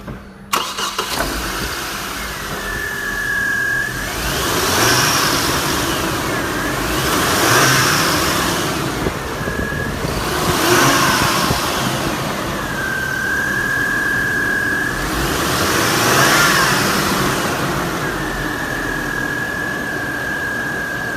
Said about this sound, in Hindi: जनरल मोटर्स का एटलस पेट्रोल इंजन है ये।